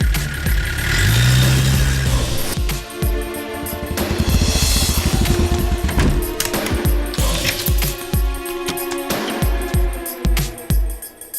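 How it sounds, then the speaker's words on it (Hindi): Car engine starting and revving as the vehicle is driven out, a close mid-pitched rumble with rising revs and bursts of acceleration, mixed with clatter and film-scene background sounds. "चलो गाड़ी निकालो।"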